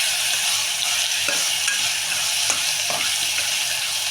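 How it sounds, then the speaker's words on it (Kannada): Ginger garlic paste frying in oil in a pan for a fenugreek rice dish, a steady close hiss with occasional soft stirring clicks, continuous and even with no talking. "1 ಸ್ಪೂನು ಶುಂಠಿ ಬೆಳ್ಳುಳ್ಳಿ ಪೇಸ್ಟು ಹಾಕಿಬಿಟ್ಟು ಎಣ್ಣೆಯಲ್ಲಿ ಸ್ವಲ್ಪ ಫ್ರೈ ಮಾಡ್ಕೊಳ್ಳಿ"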